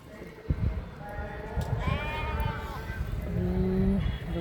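Sheep and goats bleat several times, one after another, with a low rumble and faint voices in the background.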